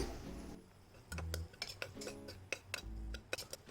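A spoon stirs tomato masala with turmeric, salt, cumin and pepper powder in a pan, scraping and clinking against the metal in a series of short, uneven strokes, close and clear.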